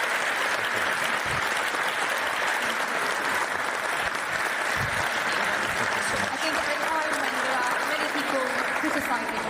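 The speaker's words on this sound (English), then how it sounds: "Applause to that." Audience at a live NATO public event applauding, a dense sustained burst of many hands clapping that fills the room steadily from start to finish.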